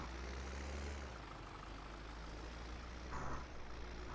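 Kubota tractor engine running steadily in a field during bush hogging, a continuous low rumble with no talk over it.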